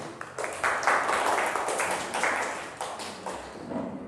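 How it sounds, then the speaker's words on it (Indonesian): A classroom of students claps for a group in a dense burst of applause that swells and then thins out over a few seconds. "Tepuk tangan untuk kelompok 1."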